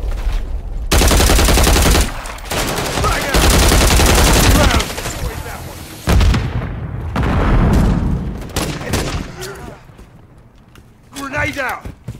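Rapid automatic gunfire from a switch-equipped pistol in an online shooter video game, loud bursts of shots and booms filling much of the clip, with a quieter stretch and a last short burst near the end.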